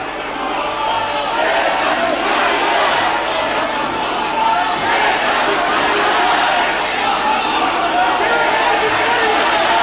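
Parliament members and gallery guests chant slogans, a loud, dense crowd roar of overlapping shouting voices filling the hall continuously.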